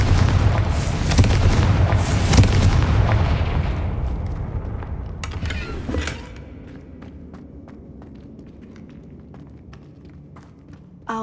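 A Confringo explosive spell blasts in the Hogwarts Legacy video game, a heavy rumbling boom that rolls on for several seconds and fades, followed by sparse crackles and small impacts.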